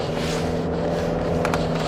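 A used sedan with about 100,000 km on it accelerates along a straight road, its engine a steady low drone with broadband road and tire noise, heard from inside the cabin, with no talking.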